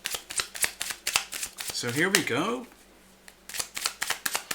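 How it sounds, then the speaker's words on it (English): Tarot cards are shuffled at close range in a series of quick riffling snaps and flutters. A voice speaks briefly in the middle, and a short quiet pause comes before the shuffling resumes. "Cards are well shuffled"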